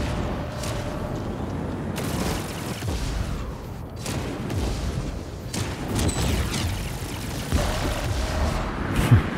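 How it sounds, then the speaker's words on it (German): Explosions in the sci-fi space combat video game Chorus boom in a dense, rumbling barrage, with sharp blasts breaking through a continuous roar. The sound is loud and has no talk over it. "Schöne Explosion."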